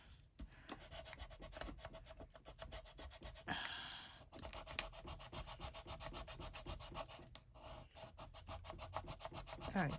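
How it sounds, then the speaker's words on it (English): Folded paper in a junk journal is burnished with quick, repeated rubbing strokes, a close, soft scratchy rasp in a steady rhythm with a brief louder swipe midway. "I'm going to have to burnish it because it did pop up"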